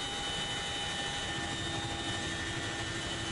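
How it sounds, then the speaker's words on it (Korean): Aircraft engine droning steadily overhead at about 600 m altitude during a Korean special forces parachute drop, a constant loud broadband roar with a faint steady whine and no pauses. "시끄러운 엔진음이 600m 상공에 머물자"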